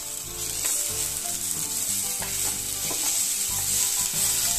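Sweet potato slices fry in ghee on a low flame for a sweet Marathi dish, a continuous dense sizzle with soft intermittent scraping as the slices are stirred, steady and close with no voices.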